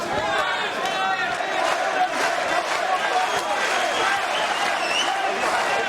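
Arena crowd roaring during a WBA super welterweight title boxing bout as punches land, a continuous loud wash of cheering with a commentator talking over it.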